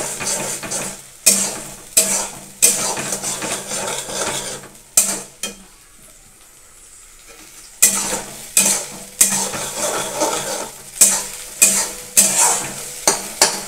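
Ginger, garlic and onion paste frying in oil, stirred in loud, repeated spoon-against-pan scrapes over crackling sizzle, with a brief near-silent pause midway before the rhythmic stirring resumes.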